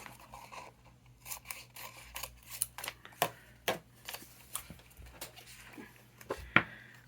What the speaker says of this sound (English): Cut some of this post-it off.